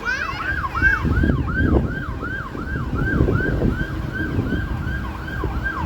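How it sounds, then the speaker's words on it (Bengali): A police car siren wails past during a wildfire in Canada, its rising and falling tone repeating steadily and loudly over the rumble of road traffic for several seconds. "ওদিক দিয়ে আবার কি জানি পুলিশের গাড়ি গেল ছুটে"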